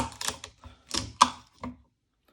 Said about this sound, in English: just taking a small knife, I'm going to start to cut this back